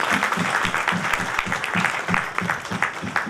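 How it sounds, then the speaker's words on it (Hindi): An audience at a Delhi Hindustani Mercantile Association gathering claps loudly to welcome an arriving chief election commissioner. The clapping falls into a fairly even, rhythmic beat with sharp strikes about twice a second throughout. "उनका जोरदार तालियों से स्वागत करें"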